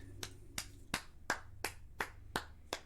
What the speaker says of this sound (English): I'm just gonna keep applauding because he obviously deserves the win